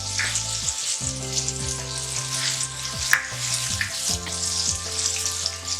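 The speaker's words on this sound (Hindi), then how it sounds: "अदरक और लहसुन भून लिया है।" Chopped ginger and garlic paste frying in ghee with turmeric in a pan for a chana daal. A steady, close crackling sizzle runs throughout, with occasional stirring scrapes and no talking.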